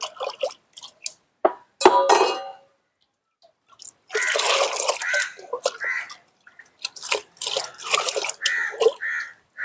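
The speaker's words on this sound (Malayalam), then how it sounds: "നമുക്ക് നല്ലതുപോലെ ഒന്ന് ഇളക്കി ചേർക്കാം." About 100 ml of mashed curd is stirred into water to make an organic pesticide for dendrobium orchids, giving close, intermittent sloshing and splashing with a few sharp clinks against the container.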